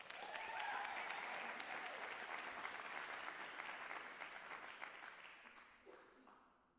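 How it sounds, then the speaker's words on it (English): Audience applause for poet Caroline at a spoken word and poetry night, a sustained crowd clapping that holds steady for several seconds and then gradually thins and fades out. "Give Caroline one more round of applause."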